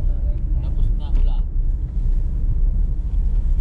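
Strong wind roars across a high Alpine mountain pass on the Col de la Bonette, a steady low rumbling buffet that lasts throughout, with a voice speaking briefly near the start.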